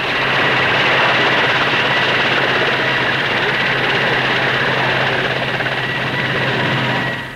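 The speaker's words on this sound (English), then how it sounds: "The Bristol 192 is a twin-engine helicopter in production for the Royal Air Force." Bristol 192 twin-engine helicopter flying at the Farnborough air show, a loud, continuous rotor and turbine roar that holds steady throughout and fades slightly at the end.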